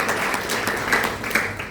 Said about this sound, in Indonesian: tepuk tangan meriah bagi Tuhan Yesus.